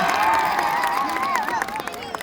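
An audience claps and cheers at a concert during the Pokhara Mahotsav festival, a dense crowd roar with clapping under a sustained singing or shouting voice.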